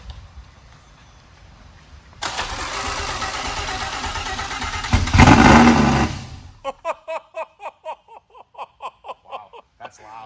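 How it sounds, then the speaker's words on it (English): An engine fires on its very first start attempt after being primed, bursting into a loud, close roar that surges higher midway, then cuts off. Excited voices follow in rapid bursts. "So we're gonna bump the starter here and see what we get."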